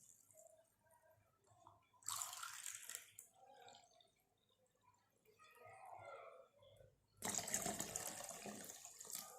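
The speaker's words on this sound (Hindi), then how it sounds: "3 कप पानी डालेंगे हम इसमें।" Water poured into a blender jar for fresh orange juice, two distinct loud splashing pours separated by quieter clinking and handling sounds, with no talking.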